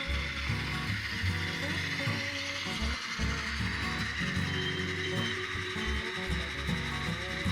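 Atlas N scale Conrail B40-8 model locomotive with an ESU sound decoder, running at speed step 40, giving a continuous mechanical diesel engine rumble with gear whir and rattling motor noise.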